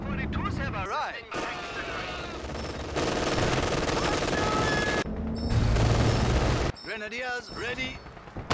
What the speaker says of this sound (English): MG-42s have arrived.